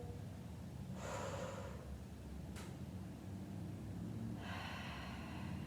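Heavy breathing during a hot yoga warrior one pose: two long, breathy exhales and a short sharp sniff, faint and close against a steady background hiss.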